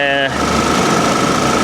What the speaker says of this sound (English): Yeah, they put a 4-cylinder in the A6.